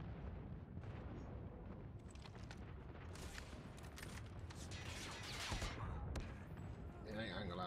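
Gunfire and explosions from a Call of Duty Mobile ranked match: a steady roar of shots and blasts with sharper cracks bursting out midway, and a voice talking faintly beneath.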